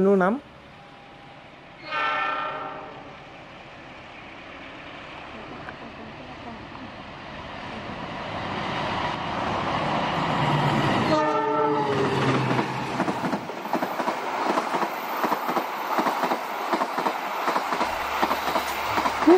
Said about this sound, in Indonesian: sudah terdengar dari sini kejauhan di sana itu tikungan berbelok ke kanan melintas ke jembatan Bengawan Solo ya Lokomotif dinas CC 206